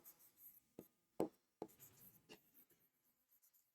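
A teacher writing notes on a board, a few sharp taps and strokes of chalk or marker separated by pauses, quiet and close, with no talking.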